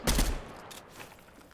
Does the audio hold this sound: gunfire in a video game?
yes